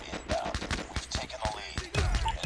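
Gunfire from a pistol in the mobile shooter game Call of Duty Mobile, a rapid string of sharp shots in quick succession with game sounds behind.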